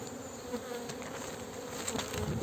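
Dense, steady buzzing of many honey bees close by, a continuous droning hum that swells slightly toward the end, with no voices.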